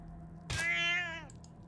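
Single cat meow from the Wasteland 3 video game, a short clear harmonic call lasting under a second against a quiet game background hum.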